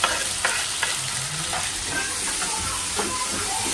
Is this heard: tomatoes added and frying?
yes